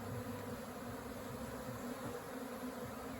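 A swarm of honey bees being caught and shaken into a Layens hive in April, making a steady, dense buzzing hum close by that continues without pause and with no talking.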